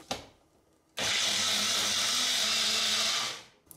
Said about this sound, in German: Es kommt natürlich nach der Stärke von eurem Mixer.